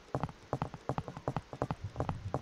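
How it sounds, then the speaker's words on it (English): Footsteps of characters running in a Unity 3D mobile shooter game, heard as a quick, steady series of hard, clopping impacts, close and fairly loud, with no talk over them. "Now if you play the game, it will actually play the footstep sounds as well."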